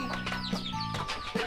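Chickens cluck close by at a rural home, with several short, choppy calls in quick succession.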